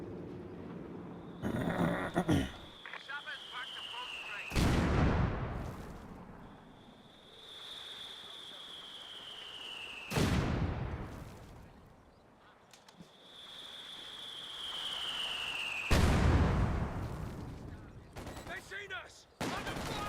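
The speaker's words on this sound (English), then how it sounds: "MG42 has pretty good burst there" MG42 machine gun in Company of Heroes 2, several short sharp bursts of gunfire spaced a few seconds apart amid battle noise, each followed by a rising whine, with someone commentating over the action.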